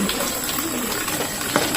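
Strong rushing water flows steadily in an outdoor setting, a continuous broadband hiss that stays fairly loud throughout with no talk over it.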